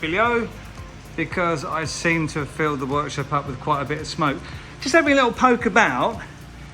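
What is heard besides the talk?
No everyday noise stands out behind the speech.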